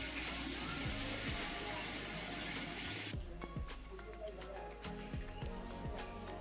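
Engine oil is poured slowly into a KTM RC 200 BS4 motorcycle during a full service, giving a steady close trickle of liquid over a constant background hiss that changes texture midway.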